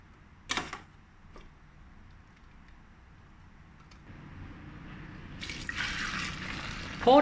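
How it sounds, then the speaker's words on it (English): Chicken stock is poured through a wire mesh strainer, starting with a brief splash and a clink, then a quiet lull before a steadily rising stream of liquid trickling and splashing into a vessel nearby. "Pour the chicken stock through the wire mesh strainer again to remove any unwanted debris."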